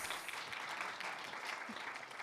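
An audience at a conference on open innovation applauds a guest invited onto the stage. Dense, even clapping fills the whole stretch at a soft, distant level.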